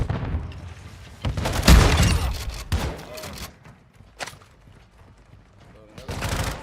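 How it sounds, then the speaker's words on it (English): A stun grenade goes off in the Call of Duty DMZ video game as a loud, sharp burst with a rumbling tail, followed by a few scattered bangs and shots, with game voices heard in the mix. "Throwing a stun grenade."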